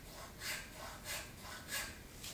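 A small file rasps back and forth in a guitar nut slot, angled down toward the headstock, in a workshop: four or five soft, rhythmic strokes about half a second apart, quiet and close with no talking.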